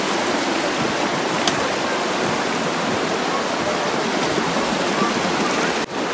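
Steady broadband rush of river water flowing continuously beside a natural hot spring, close and loud with no speech, a constant wash like a stream or small rapids throughout.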